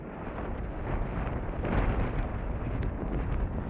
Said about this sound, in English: And quite a windy day as well.